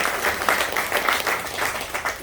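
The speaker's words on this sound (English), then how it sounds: "Give them a round of applause for that." An indoor audience gives a short burst of applause after the workers behind a site's weather protection are thanked, dense clapping close by at a steady level.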